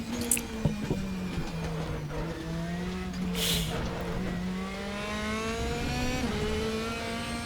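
A Mercedes DTM 2016 race car at Suzuka in RaceRoom, its engine whining loudly and steadily with small pitch dips through the corners, then rising as it accelerates. A brief tire squeal cuts in partway through, with no talking.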